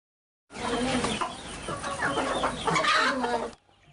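Several chickens cluck and squawk together at close range, a busy continuous chatter lasting about three seconds before cutting off.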